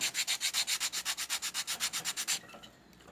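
Rapid, steady back-and-forth rasping of sandpaper on wood edges, about twenty even strokes close up, then stopping into quiet.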